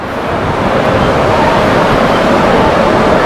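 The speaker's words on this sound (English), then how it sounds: "It's very windy today." Steady, loud broadband rush of wind buffeting the microphone on the deck of the cruise ship Icon of the Seas, constant throughout with no breaks, like strong gusts outdoors.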